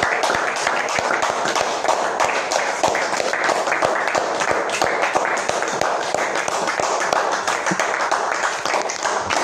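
A church congregation claps together in a dense, continuous round of applause, sustained and energetic for several seconds with crowd noise mixed in.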